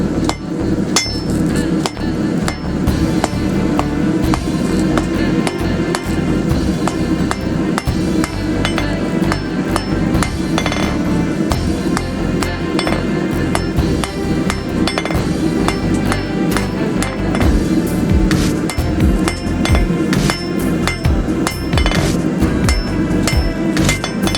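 Steady hammer blows ring out as the tip of a steel pipe tamper is forged and drawn down to a taper on an anvil, loud, near and continuous with bright metallic clinks.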